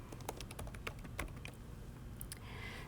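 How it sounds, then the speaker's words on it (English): Keys clatter on a computer keyboard in quick, uneven bursts of typing, close and fairly quiet, while someone enters an ancestor's name into a genealogy database search. "we can just type in your ancestor's name"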